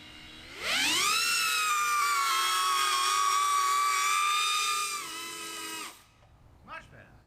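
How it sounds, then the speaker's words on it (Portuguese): An experimental drone on gas thrusters in a test flight gives a loud, steady high-pitched whine that rises at takeoff, holds for about five seconds, then drops away, leaving faint clatter. "Nos voos de teste seguintes, ajustei valores no controlador de voo para fazer o drone reagir mais rápido"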